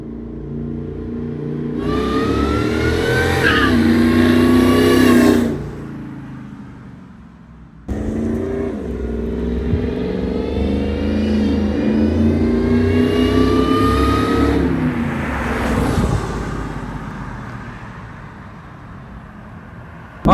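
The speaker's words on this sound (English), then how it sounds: "let's take this one for a drive" A 2002 Ford F-150 SVT Lightning pickup with performance upgrades and 75K miles pulls away, its engine revving up through two strong, loud accelerations before settling into a steady cruising drone, with no talking.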